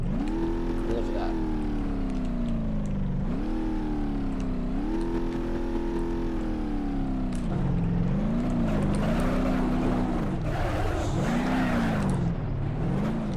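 A V8 rally car in the BeamNG.drive driving game revs hard at full throttle, its loud engine note rising and dipping repeatedly as it accelerates and lifts, continuous and close throughout.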